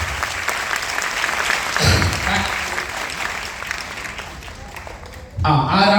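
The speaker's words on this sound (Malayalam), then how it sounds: "നല്ലൊരു ക്ലാപ്പ്, നല്ലൊരു ക്ലാപ്പ്" An audience claps steadily at an event, a thick continuous round of applause that carries on for several seconds before a voice cuts in near the end.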